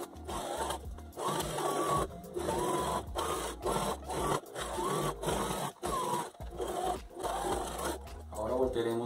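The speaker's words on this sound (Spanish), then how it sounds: "Ahora vamos a hacer la puntada de refuerzo pasando una puntada recta por el mismo lado a un centímetro de la orilla hacia adentro." A sewing machine runs a straight reinforcement stitch along a hoodie hood seam, a steady mechanical whir in repeated bursts with brief pauses between runs, fairly close and continuous throughout.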